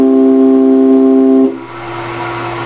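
A homemade pipe organ note from a 2-foot, 3-inch galvanized downspout pipe, a loud steady reedy tone held for about a second and a half, then cutting to a quieter different tone.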